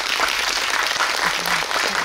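Loud, dense applause fills a cinema auditorium at CGV Yongsan, many hands clapping steadily for the whole brief stretch.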